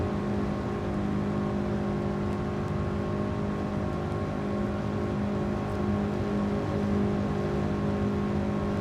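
A race car engine in the Gran Turismo Sport racing game drones steadily at very high speed, a loud continuous whirring roar that holds without letup and with no talk.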